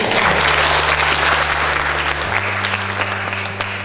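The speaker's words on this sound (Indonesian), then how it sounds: "Tepuk tangan untuk SMP." A crowd at a school graduation ceremony claps loudly in a sustained burst, with a steady low musical drone underneath that shifts pitch midway, the clapping thinning toward the end.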